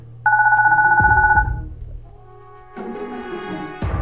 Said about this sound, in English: Oh, my baby phone's ringing.